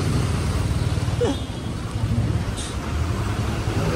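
Steady road traffic on the old Mumbai–Goa highway near the Konkan Railway line, a continuous low rumble of cars and heavy vehicles close by with a brief higher whine partway through.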